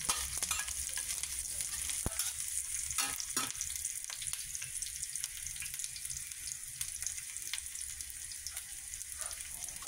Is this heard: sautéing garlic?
yes